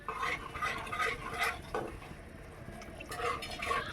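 Shahi paneer masala being stirred and fried in a pan, with a spoon scraping in repeated strokes over a steady sizzle, close and moderately loud, no voices.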